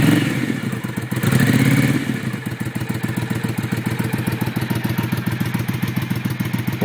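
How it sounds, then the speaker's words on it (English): A Triumph America motorcycle fitted with new TOR exhaust pipes revs up in a loud surge, then settles into a steady, throbbing idle with a rhythmic lumpy pulse, close by and alone. "Let's have a listen. Here we go, rev."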